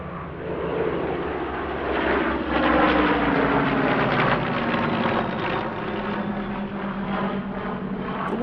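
Two Spitfires of the Battle of Britain Memorial Flight at the Midlands Air Festival 2021 airshow, piston engine drone swelling as they pass and fading away, steady and moderately distant.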